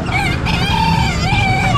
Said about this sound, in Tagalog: Daming manok ni Kuya Marlon, no?